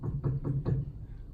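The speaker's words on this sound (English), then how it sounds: "firm pounding on the door catches us both off guard" Four firm pounding knocks on a door land in quick, even succession, fairly close and solid, followed by a brief quiet tail.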